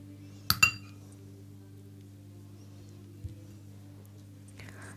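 A teaspoon clinks against a glass container twice in quick succession while an ingredient goes into a homemade skin moisturizing cream, close and sharp, followed by a quieter tap and a faint clink near the end over low background hum.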